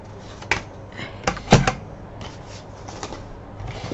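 Scissors cut along a ruled line in patterned craft paper to form a pocket for a folio, with sharp close snips and crisp rustles in an irregular rhythm, loud at the middle and softer toward the end.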